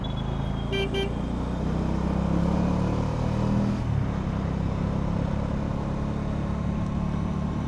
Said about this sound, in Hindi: ये देखो एंटॉर्क, ये बेस्ट सुपर बाइक है।